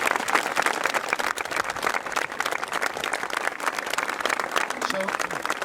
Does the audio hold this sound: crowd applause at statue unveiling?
yes